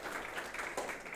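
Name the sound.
audience applause for an academy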